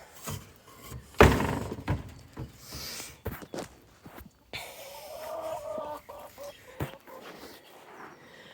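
Pet hens cluck and murmur around a backyard chicken coop. The calls come close and intermittently, with occasional footsteps and bumps and no talking.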